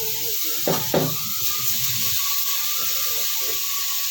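Chopped capsicum hits a hot pan, bringing a couple of brief bumps followed by a steady, fairly loud hissing sizzle that continues throughout, with no talking.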